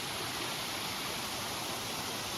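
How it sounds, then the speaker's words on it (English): A waterfall near a stream in Northern Ireland, a steady, dense rushing hiss of falling water that holds constant and fills the whole moment. "There's a waterfall."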